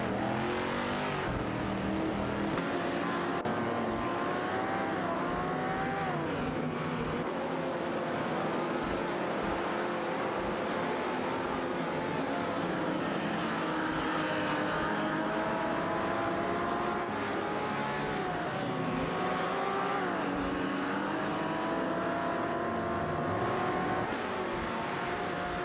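Racing car engines in an AI race, roaring continuously and loud for the whole stretch, with revving pitch sweeps rising and falling as cars accelerate and pass, no talk over them.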